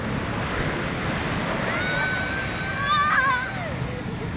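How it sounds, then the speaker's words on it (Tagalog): Strong ocean waves break on a sandy beach, a steady roaring wash swelling louder midway, with wind buffeting the microphone and voices faintly present. "Yung lakas ng alon niya, no?"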